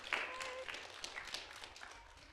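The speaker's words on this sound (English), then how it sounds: "I want you to give a round of applause to the rock stars." Scattered applause and clapping from a vacation Bible school audience greeting the rock stars, fairly quiet and thinning out over a couple of seconds, with faint voices mixed in.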